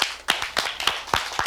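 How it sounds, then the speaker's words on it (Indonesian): A studio audience on an Indonesian talk show claps to welcome two young book-loving guests, short uneven bursts of hand claps close to the microphone from a small group, without any talk over them. "Tepuk tangan dulu."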